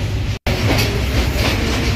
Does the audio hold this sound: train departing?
yes